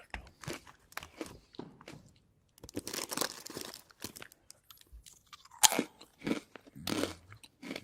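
Hula Hoops salty potato crisps are bitten and chewed up close, with crisp crunches in short irregular bursts separated by brief quiet pauses and no talking.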